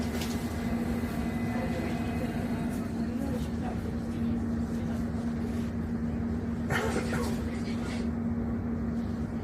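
A London Underground Hammersmith & City line train bound for Barking rumbles steadily from inside the carriage. The low, continuous rolling drone and rattle hold a moderate level throughout.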